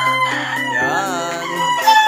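A gamefowl rooster from a Mabalacat, Pampanga game farm crows once loudly and close, a drawn-out rising and falling call alone in the clip.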